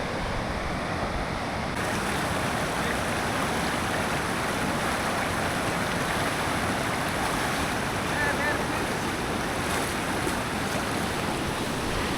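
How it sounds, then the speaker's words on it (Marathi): Water rushes steadily from a waterfall on a monsoon trek to Kalu Waterfall, a loud, continuous broadband roar with wind buffeting the microphone throughout. "वॉटरफॉलचं पाणी येतंय"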